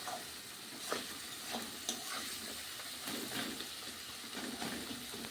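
Spices for a rohu fish curry frying in oil with a little water, a steady close sizzle under repeated scraping stirs that recur every second or so, with no voices.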